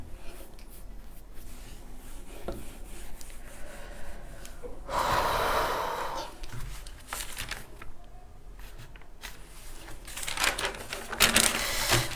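Writing being wiped off a classroom board makes a rough, brisk rubbing burst near the middle, with fainter scrapes and handling noises around it in a quiet room.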